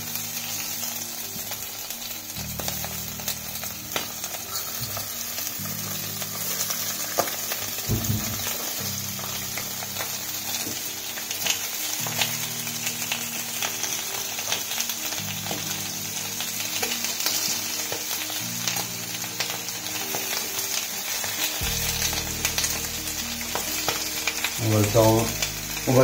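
Cuttlefish sears in a very hot pan with a constant loud crackling sizzle, broken by repeated low scraping stirs as the pieces are moved around, close up with no speech over it.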